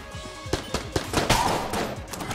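Rapid bursts of Tommy gun fire from a ghost enemy in the Enter the Gungeon video game, a fast stuttering string of sharp shots, fairly close and fairly loud, with no talk over it.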